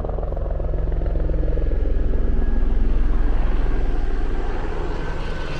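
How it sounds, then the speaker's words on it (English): A steady, loud helicopter drone with rhythmic rotor chop, swelling slightly as it passes overhead in Brazil, with no voices. "I think there's the helicopter."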